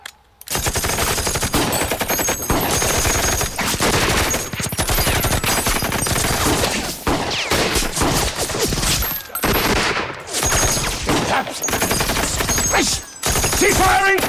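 A volley of rifle fire in a film scene, sustained and loud, with overlapping shots rattling almost continuously for many seconds and only brief gaps, plus occasional shouting.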